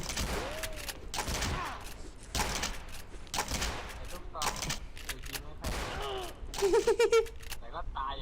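Rapid bursts of gunfire from the XShot video game, sharp repeated shots in clusters with mechanical clicks, and a voice talking over part of it.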